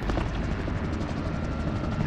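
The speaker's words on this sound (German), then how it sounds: "Ich habe einen Helikopter" A helicopter in the video game Call of Duty: Modern Warfare thuds close and loud, its rotor chopping in a steady rapid pulse under a heavy low rumble, with no speech.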